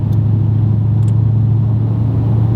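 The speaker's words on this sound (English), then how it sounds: "You can really hear the coins rattling and all the drone, which you're going to get with a sport exhaust." Audi B8 RS5 with a 4.2L engine and a 2.75-inch valved sport cat-back exhaust, heard from inside the car as a steady, loud, low droning hum with a constant rumbling tone throughout.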